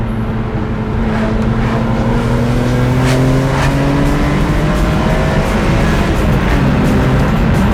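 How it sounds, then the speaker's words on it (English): A naturally aspirated, very old-fashioned car engine revs hard and close, its steady rising tone climbing through the gears with no talk over it. "Considering it's a naturally aspirated, very old-fashioned car, it just sounds"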